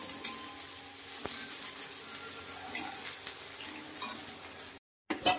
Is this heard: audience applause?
no